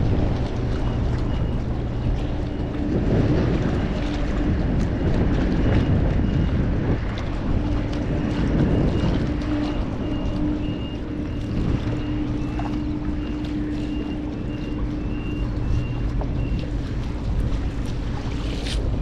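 Strong wind roars steadily against the microphone at the water's edge, with a constant low rumble that could be a boat engine and faint lapping water, continuous with no voices.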